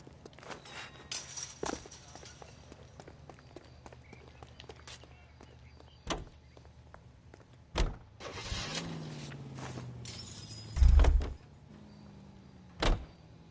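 Someone steals a car and starts it, with a car door opening and shutting, footsteps, the rustle of climbing inside, then the engine cranking and turning over amid scattered thumps.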